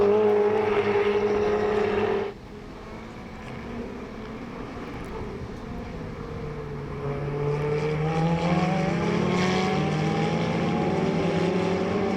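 Ferrari Challenge Trofeo Pirelli race cars climb the hill at Circuit of the Americas, engines rising in pitch as they accelerate, heard from a distance as a sustained roar that swells after a brief dip.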